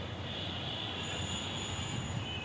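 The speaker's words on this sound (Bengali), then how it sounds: "এখান থেকে মেট্রো রেল যাওয়া যাওয়ার পথে খুবই সুন্দর মেট্রো রেল দেখা যায়" Continuous rumble and screech of a metro train rolling along rails, loud and steady, with a high metallic squeal over the roar.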